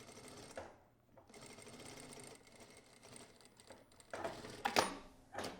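A sewing machine stitches a fabric seam in bursts of rapid mechanical clatter, starting and stopping a few times at close range, with louder, busier runs toward the end and no talk.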